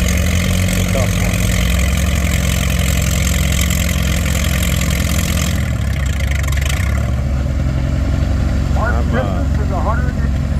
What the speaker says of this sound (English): Imagine he's going to get through it with this tractor.